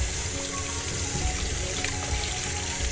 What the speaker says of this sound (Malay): Beras perlulah dibasuh sehingga ianya bersih.